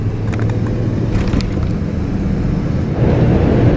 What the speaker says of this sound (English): One VW bug and a lady.